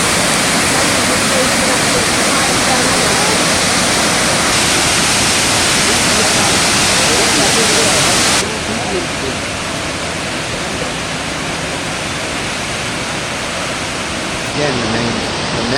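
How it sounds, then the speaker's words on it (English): A powerful waterfall roars steadily as a dense, loud, continuous wash of falling water, with a slight change in tone partway through as the view shifts along a wide main falls. "Look at this waterfall."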